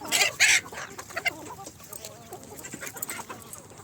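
Free-range country hens and a rooster on an organic farm cluck in short bursts, with a couple of loud close squawks at the start, then scattered softer clucking.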